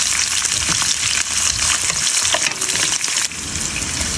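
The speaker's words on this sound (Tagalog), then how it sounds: "And then, hahaluin lang natin siya." Loud, close frying of a vegetable and seafood mix with clams, shrimp and squid in a pan, steady hiss with scraping stirs and clatter from the utensil, no talking, while cooking chop suey.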